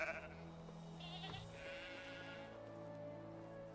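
Sheep bleat in the farm world of the video game Medieval Dynasty, a few soft calls under a steady ambient bed with faint background tones.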